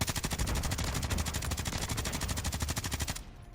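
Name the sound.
gunfire shooting through walls in Call of Duty MWIII video game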